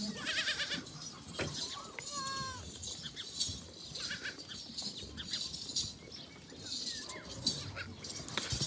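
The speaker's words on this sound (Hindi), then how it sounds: "ये जो हमारी इस कॉर्नर पे 2 बकरियां खड़ी हैं" Goats, including pregnant does, bleat on a farm in a few short wavering calls amid background rustling and faint other animal sounds, moderately close.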